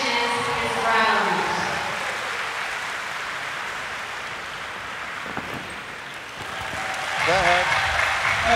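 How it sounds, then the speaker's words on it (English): Crowd applause and cheering for a rider finishing a round at a show jumping speed challenge, a steady broad roar of clapping across the whole stretch with an announcer's voice over it, swelling again near the end. "The crowd cheering him on."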